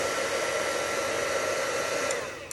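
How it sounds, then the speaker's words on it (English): A steady, close, hissing whoosh of an older heat gun blowing hot air for embossing runs continuously, then dips slightly near the end. "This is one of my older heat guns, so don't rush it back and forth like this."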